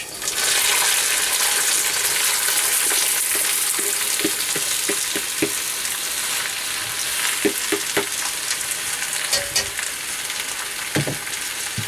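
Vegetables frying in a pan of reused chip oil, a steady loud sizzle throughout with scattered stirring clatters and spoon knocks, no talking.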